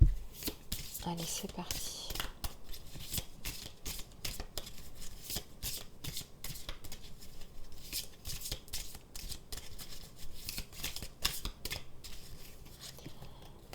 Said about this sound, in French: on va tirer quelques cartes des archanges qui m'appellent